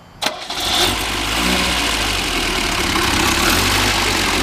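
A 1975 Chevrolet Cosworth Vega's fuel-injected 2-liter four-cylinder cranks briefly and catches, then settles into a loud, steady, close idle with no one talking over it.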